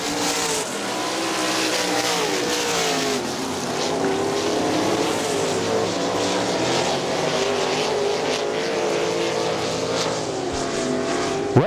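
Great Lakes Outlaw Super Sprints race around the Butler Battlegrounds track, a loud continuous snarl of several engines rising and falling in pitch as cars sweep past, with no voices.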